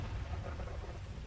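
Thunder and rain in the video game Grand Theft Auto V: a low continuous rumble under steady rain hiss, fairly faint and even throughout.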